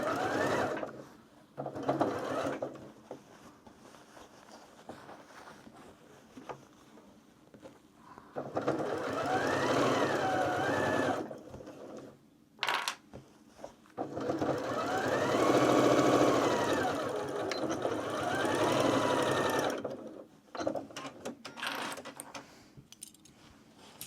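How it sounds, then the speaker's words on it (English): A sewing machine stitches fabric for a makeup bag in several bursts of rapid whirring, close and fairly loud, separated by quieter pauses with small handling clicks. "When I sew this one up, I think once it's stitched together"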